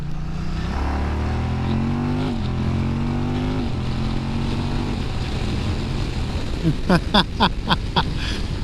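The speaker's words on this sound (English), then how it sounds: "Loving this Moto Guzzi motor. This V100 motor is awesome." A Moto Guzzi V100 motorcycle engine drones while riding, its pitch climbing through gears and then settling, with steady wind rush and a burst of rapid clicking near the end; the sound is close and loud with no speech.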